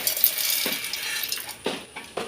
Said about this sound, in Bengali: দেখুন আমি রোদ থেকে তুলে এনে মিক্সিতে দিয়ে দিচ্ছি।